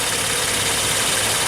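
A 2.7 liter car engine idles steadily and loudly with a constant even hum and no voices.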